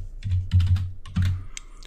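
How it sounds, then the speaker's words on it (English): A computer keyboard is typed on in short uneven bursts of clicks, close and moderately loud, with a low hum beneath. "then type in the name of the table"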